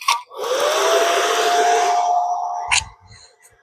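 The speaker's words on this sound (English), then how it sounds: "Now I'm just running that hair dryer on low." A hair dryer set on low blows air up into a coal forge, a steady whooshing hiss with a faint whine that rises in and holds, then cuts off before a few dull knocks.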